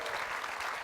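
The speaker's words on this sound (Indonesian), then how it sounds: "tepuk tangan untuk Ibu Romla." Studio audience applauding on an Indonesian TV variety show, a dense, steady wash of clapping filling the whole short moment, close and fairly loud with no voices over it.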